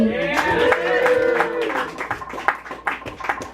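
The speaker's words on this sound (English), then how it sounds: "Everyone, please give a round of applause for Alex P." Audience applause for a performer at a small live music night, with scattered hand claps breaking out after a sustained voice or tone and continuing unevenly at moderate volume.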